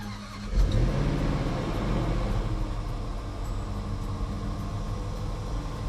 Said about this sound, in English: This is cold start.